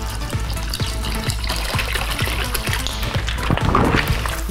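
Mixer pours steadily into a giant white wine spritz, a continuous close liquid gush and trickle with faint rhythmic thumps underneath, growing slightly louder near the end, with no talking.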